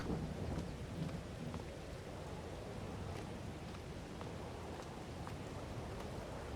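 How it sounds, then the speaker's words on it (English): Steady rain pours in Farming Simulator 22, with thunder rumbling low beneath a continuous wash of rainfall and faint scattered drops, no voices. "stay out here in the rain and get wet"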